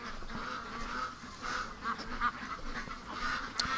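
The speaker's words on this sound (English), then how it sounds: "Oh man, ducks." A flock of ducks kept for a charity raising project, quacking and honking in a steady jumble at moderate distance on a warm evening, with scattered louder calls rising out of the chatter.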